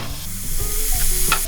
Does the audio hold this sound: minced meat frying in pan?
yes